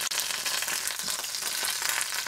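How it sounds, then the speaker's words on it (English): Folded cherry burritos fry in hot oil in a pan, folded side down, giving a steady, close, dense sizzle with crackling bursts throughout and no talking. "first, cooking the side down that's folded, it'll keep it from opening up on you"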